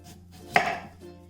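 A single close knife chop through elephant foot yam on a cutting board, a sharp crisp thunk with a short tail, then quiet.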